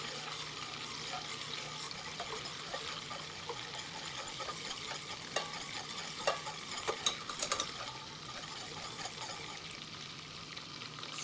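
Butter browning in a pan gives a steady, gentle sizzle and faint bubbling, with a few soft clinks partway through.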